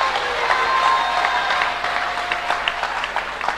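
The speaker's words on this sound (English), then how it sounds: "Are you clapping for Jesus?" A church congregation claps together in a crowd, a dense burst of applause that is loudest at first and then thins into scattered claps.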